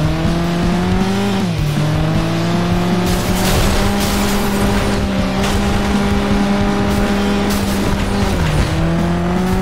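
Beat-up Chili car driven in FlatOut 2: a loud, steady engine drone with pitch steps at gear changes, plus intermittent crunches and scraping from collisions, continuous throughout.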